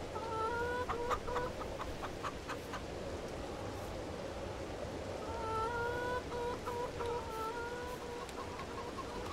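Chickens cluck in Farming Simulator 22 in two bursts of repeated clucks against a steady windy rushing background, fairly quiet and with no talking.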